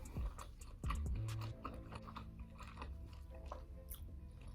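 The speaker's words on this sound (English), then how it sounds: "Sorry if I don't like the sound of my chewing." Close, wet chewing and crunching of a seafood boil with lobster, steady mouth sounds and occasional crunches up close, with faint background noise and no talking.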